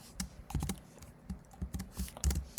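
Code being typed on a computer keyboard for a Python lesson: irregular clusters of crisp key clicks and clacks, close and moderately loud, with short pauses between bursts and no speech.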